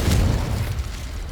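A short, muffled boom from a Confringo spell blast in the Hogwarts Legacy video game, a single low explosion with a soft rumbling tail.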